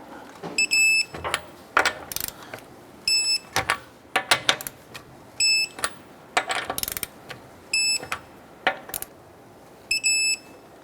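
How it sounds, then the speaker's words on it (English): Torque wrench tightening the front lug nuts of a 2008-2012 Honda Accord to 80 foot-pounds, giving repeated short clicking bursts with sharp beep-like ticks, several separate tightening passes in a quiet garage. "torque down our lug nuts to 80 foot-pounds"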